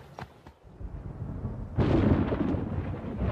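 Rolling thunder from a storm building over Botswana at the end of the dry season, a faint distant crack followed by a deep, sustained rumble that swells and lingers.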